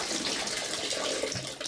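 Water leaking through the roof into a two-storey residential flat during the spring thaw, a steady broadband rush and trickle that runs continuously and close with no voices.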